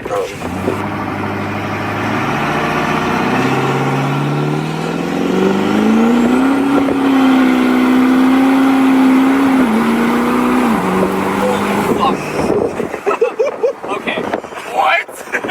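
A tuned Duramax diesel pickup truck launches hard on a road, its engine note climbing through the gears in a loud rising drone, then backing off into rumble and clatter while people talk over it.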